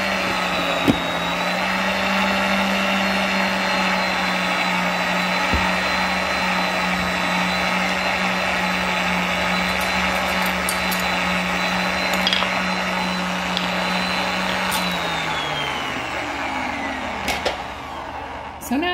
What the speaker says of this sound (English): mixer that has, like I said, it has an auto knead cycle in it